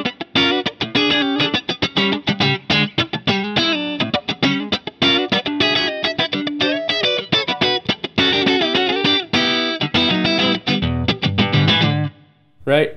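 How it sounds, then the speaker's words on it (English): Electric guitar played through a Fractal AX8 processor with a room reverb setting gives loud, close, distorted chords and riffs that ring steadily, then stop briefly near the end before resuming. "This is kind of like a room reverb."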